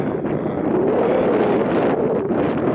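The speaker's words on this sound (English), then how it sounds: "We're getting a great deal of wind coming across here." Strong wind blows across an open field beside a cheap greenhouse build, a steady, loud broadband rush that holds the whole time with no voices.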